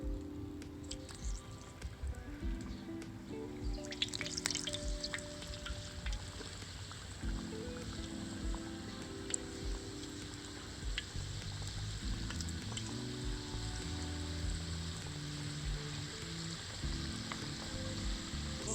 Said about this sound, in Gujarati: હવે આપણે ઘૂઘરા તળી લઈશું.